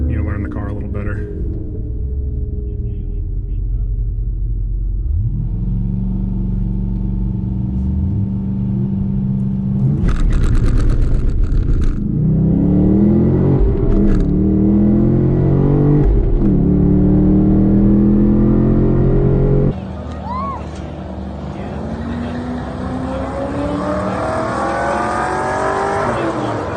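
A Chevy SS engine roars and revs hard while racing a 3rd Gen Camaro, loud rising pulls with gear changes and road rumble, close inside the cabin, with voices talking over it.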